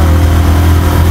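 Motorbike engine drones steadily and loudly throughout a short stretch of riding through Kathmandu streets in the morning, a constant low hum with no pauses.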